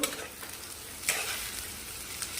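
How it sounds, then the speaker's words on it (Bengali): Onions frying in ghee for birista, a steady soft sizzle with a few stirring scrapes and clicks from the pan, close and alone with no voices. "বেরেস্তা ভাজছি এটা ভেজে নেব"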